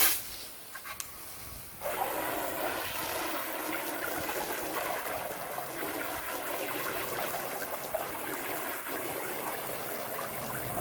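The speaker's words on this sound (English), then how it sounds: "Now you can just get me spraying off the hose." A steady rushing hiss of water spraying from a garden hose onto a freshly dyed canvas tarp, starting after a couple of seconds of quiet clatter and continuing evenly without pause.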